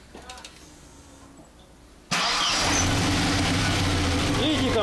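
A car engine, under test of its alternator and battery, turns over and catches about two seconds in, jumping from a quiet background into a loud, steady idle that fills the rest; a voice is heard early on.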